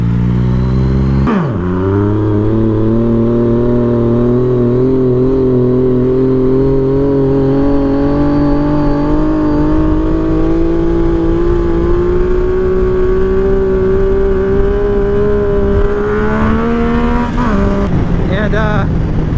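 A used Yamaha MT-09 (FZ09) motorcycle engine revs up after a brief dip, then pulls in a long, loud, rising drone as it accelerates, with a shift and surge near the end, heard close.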